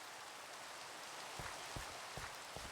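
Rain in the Minecraft video game, a soft continuous hiss of falling drops with a few louder patters toward the end, heard alone.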